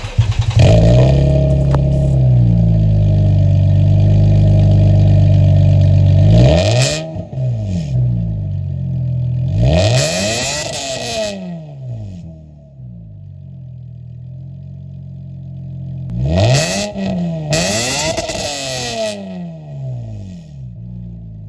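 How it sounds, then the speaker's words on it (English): Loud Lexus IS300 exhaust with an upgraded catback system idling with a deep rumble, then several sharp revs rising and falling in pitch, close by. "since the exhaust is up, it's only right that we do a sound test"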